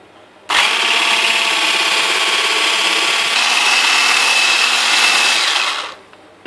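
An electric mixer or blender runs steadily for about five seconds while powdered sugar is beaten into pandan cake batter, a loud even whir starting and stopping abruptly.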